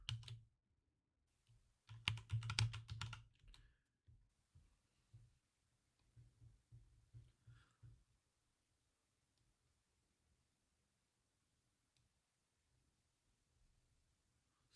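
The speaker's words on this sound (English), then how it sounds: "type a password." A password is typed on a computer keyboard in quiet bursts of soft key clicks, with a denser cluster of taps early on and sparser keystrokes trailing off before near silence.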